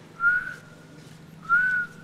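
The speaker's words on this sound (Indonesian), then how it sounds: "Tandanya siul." Two drawn-out whistled notes, each about a third of a second long and spaced a little over a second apart, heard in an empty factory where they are taken as a ghost's sign, against a low steady hum.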